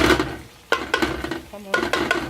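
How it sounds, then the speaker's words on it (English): Okra dropped into a hot pan on a stovetop while cooking coucou, giving short scraping, clattering stirs and a soft sizzle in bursts, close and moderately loud, with a brief quiet gap in the middle. "Now I'll add my my okra."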